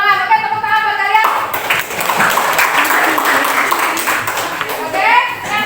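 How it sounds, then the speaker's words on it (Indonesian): High school classroom of students clapping for their classmates during an accounting lesson, a burst of mixed claps that swells and fades, with a teacher's voice talking before and after the applause. "tepuk tangan buat kalian"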